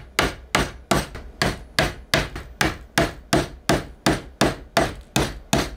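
Steady hammer blows drive finish nails into pre-drilled wood about twice a second, thirteen sharp close knocks in a regular rhythm with no talking.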